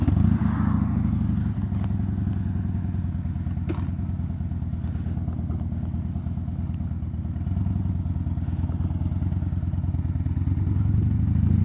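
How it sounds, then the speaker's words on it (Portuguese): A Harley-Davidson motorcycle engine with its exhaust valve removed idles with a loud, deep, throbbing exhaust rumble, steady and close throughout, with a few light clatters and thuds. "eu tô andando hoje aqui com a moto já sem aquela válvula que tem no escapamento"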